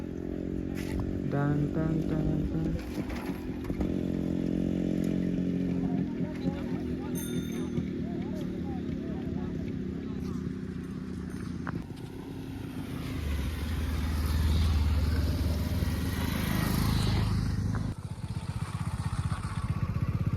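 A Yamaha RX motorcycle engine rises and roars past nearby, mixed with other traffic and clatter, while people talk over it.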